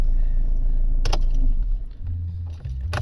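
A 2013 Mercedes-Benz C-Class W204 engine idling steadily after starting, with a sharp mechanical click midway and a low, even hum underneath, close and fairly loud.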